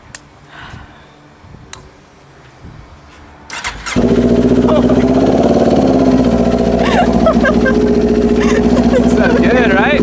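A Kawasaki Z400 motorcycle engine is quiet at first, then cranks and fires up into a loud, steady idle that carries on to the end, close by.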